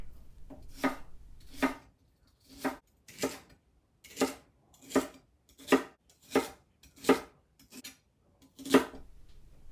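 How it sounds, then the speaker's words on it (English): A knife slices bok choy stems on a cutting board in nine crisp, evenly spaced chops, each a sharp crunch ending in a board tap, separated by near silence. "To make a stir fry with bok choy, you can slice the white stem part about a ½ inch thick"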